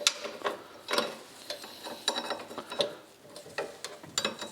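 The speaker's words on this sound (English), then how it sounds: "But now I can take the chain off." Metallic rattling and clinking as a drive chain is worked off the rear end of a Formula Konig race car during a rebuild, an irregular run of close ratchety clicks and clanks with no talk.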